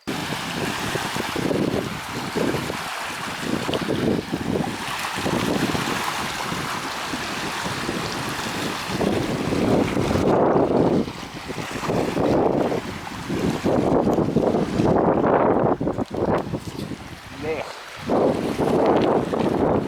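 Strong wind buffeting the microphone with a continuous roaring rush that gusts louder and softer throughout.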